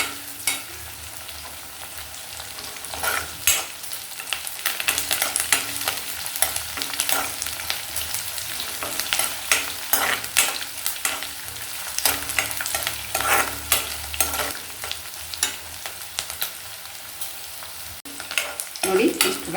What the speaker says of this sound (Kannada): ನೋಡಿ, ಇಷ್ಟು ಫ್ರೈ ಆಗಿದೆ ಅಲ್ವಾ.